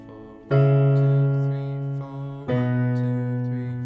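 Sustained piano chords of the pre-chorus of a song, two ringing chords struck about two seconds apart, clear and close.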